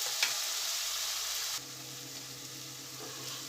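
Chopped tomatoes with salt sizzling in a hot pan for dal fry, a steady bright crackling hiss that drops slightly in level partway through, close and continuous.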